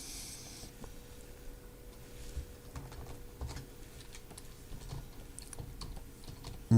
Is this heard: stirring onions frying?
no